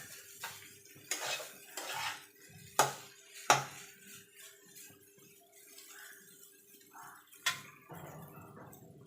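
Egg chowmein noodles being tossed and mixed with vegetables in a pan, with utensil clacks against the metal at irregular intervals, several sharp knocks standing out over soft scraping and stirring, close and moderately quiet, no talking.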